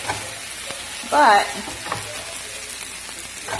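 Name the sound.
gnocchi sizzling while browning in a frying pan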